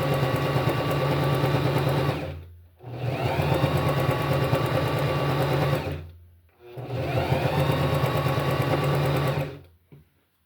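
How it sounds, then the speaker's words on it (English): A sewing machine runs in three long steady bursts, a loud close mechanical whir with rapid needle rhythm, each run stopping briefly before starting again. "it's surely helpful to have a sewing machine"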